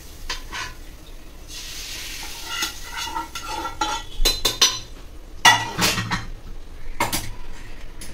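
Masala paste for Kolhapuri mutton rassa frying and being stirred in a pan, a steady close sizzle broken by scraping spoon strokes and light clinks against the metal.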